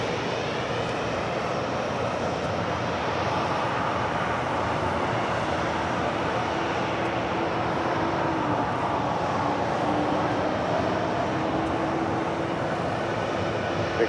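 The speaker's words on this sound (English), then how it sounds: "Next departure, United Airlines Flight 417 heading to Kahului. It's a 737 MAX 9 just delivered in December of last year." A United Airlines Boeing 737 MAX 9 jet departs LAX as a continuous broadband engine roar that holds steady and fairly close for the whole stretch, with no talking over it.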